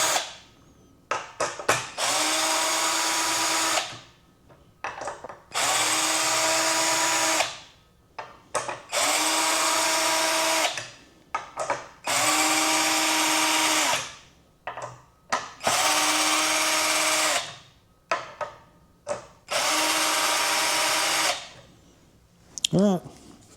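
Harbor Freight's cheapest cordless drill runs into a thin piece of wooden trim in a series of roughly two-second bursts with short pauses and clicks between them, loud and close.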